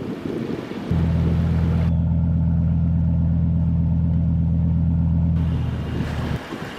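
A sailboat's engine drones at sea during a long motoring passage from Biak island, Indonesia, a loud steady low rumble with a constant throb, close by, among wind and waves.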